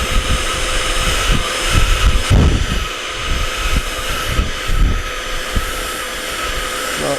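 A cordless mini vacuum runs with a steady motor whine while bits of debris rattle and clatter through the nozzle in irregular bursts.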